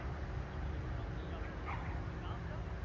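Dogs bark and yip at moderate distance at an outdoor dog games event in Australia, amid a steady hubbub of people talking and general outdoor noise.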